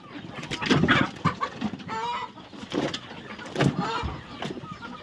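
Country chickens cluck and chatter close by while feeding, in an uneven stream of short calls, with a voice speaking underneath.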